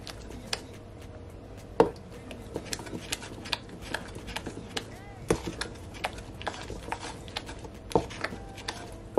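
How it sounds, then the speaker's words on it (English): A wooden spoon mixes dense fruit cake batter, rum-soaked, in a bowl: continuous soft scraping with scattered sharp knocks and taps against the bowl, close and moderately quiet. "I'm gonna take my wooden spoon and mix it all in so everything will all combine"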